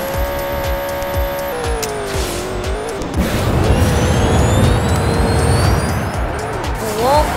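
Video game car skidding and crashing, with a long screeching tire squeal over a steady engine tone, then a noisy rough scraping burst of impact. Loud and close throughout, with a rising whine near the end.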